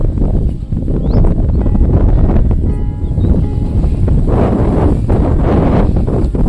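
Cool wind blowing across open countryside near a village with onion and cauliflower fields and coconut trees, a steady rough roar buffeting the microphone throughout, loud and close with no break.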